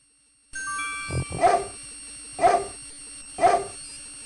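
A dog in the King's Quest 6 video game barks three times at an even one-second pace, sharp and close, each bark standing alone over a quiet synthesized background.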